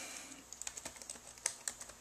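Fingers tap out a short word on a computer keyboard to search a location in an online Bible atlas, a quick run of light, close clicks with one or two sharper keystrokes.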